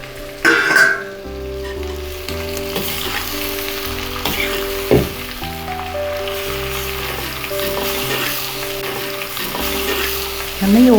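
Mango thokku with fenugreek is stirred in a hot pan, giving a loud, continuous sizzle and frying crackle. Scraping stir strokes recur throughout, with a few sharper knocks.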